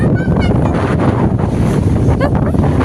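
Sea breeze at Digha beach buffeting the microphone, a loud continuous roaring rush with faint surf underneath and brief voices in the background.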